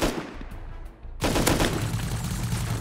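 Gunfire in the Rust survival game, a fast close automatic burst of rapid shots after a quieter noisy stretch, continuing steadily to the end.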